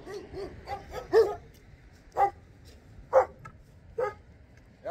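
German shepherd dogs barking, a series of sharp distinct barks spaced about a second apart, moderately loud against a quiet background.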